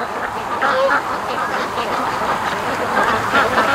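Ducks quack on a windy lake around a boat, repeated short quacks scattered over steady wind noise and rippling water.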